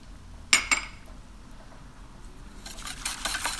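Peanut sauce with soy sauce and brown sugar being stirred in a pot, a sharp clink of a utensil against the pan followed by soft scraping and stirring sounds, close and fairly quiet.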